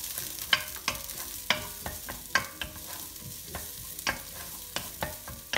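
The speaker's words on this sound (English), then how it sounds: "we're going to sweat off our onion. One small onion." One small onion sweats in a tablespoon of oil, a soft steady sizzle punctuated by repeated sharp spoon clicks against the pan as it is stirred, close by, with no talking.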